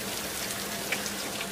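Rain ambience in the Neo Tokyo level of the TimeSplitters video game, a dense, even hiss of falling rain with faint scattered drips.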